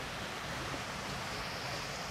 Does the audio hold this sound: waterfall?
yes